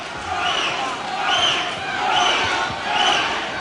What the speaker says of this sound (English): Crowd revving it up for Sean Fitzgerald